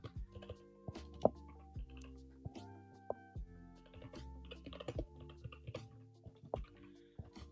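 Rapid typing on a computer keyboard, a dense run of close, crisp key clicks with uneven rhythm and occasional louder strikes, heard alone without talk.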